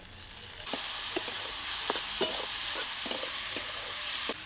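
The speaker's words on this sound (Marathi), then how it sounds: "आपण आता याच्यामध्ये टोमॅटो टाकून घेऊ" Chopped tomatoes are added to well-sautéed finely chopped onion in a pan, and the two fry with a bright, continuous sizzle while a spoon stirs and scrapes, giving several light knocks at irregular intervals.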